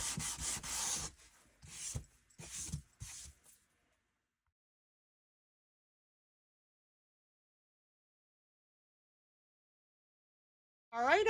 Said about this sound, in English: I'm just still using that 320 grit sandpaper that's on my finger sander. And I'm just going to go all along the edges and distress